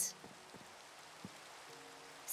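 Rain falling in the Minecraft video game, a soft steady hiss with faint scattered drops, low and continuous throughout.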